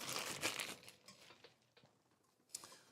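A thin plastic bag from Rode DS2 desk stand packaging crinkles close by in a dense burst of rustling for the first moment, then scattered soft crackles, and one more brief rustle near the end.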